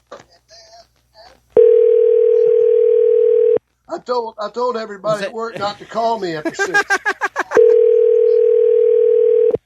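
Telephone dial tone sounding loud and steady while a call is placed during a sports talk show, heard alone in two long stretches with speech between them.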